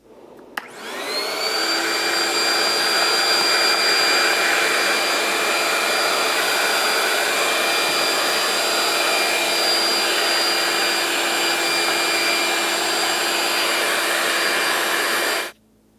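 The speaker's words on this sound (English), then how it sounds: "Let's continue on with the vacuum cleaner to try to remove all the debris from each one of the ports" A vacuum cleaner starts up and runs at a loud steady whine with a high tonal hum while sucking debris from the intake ports of a 1998-2002 Lincoln Navigator engine, then switches off at the end.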